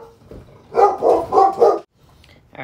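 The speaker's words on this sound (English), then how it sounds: "So that's why the dogs are barking." Dogs bark in a quick run of four loud, close barks, then fall quiet.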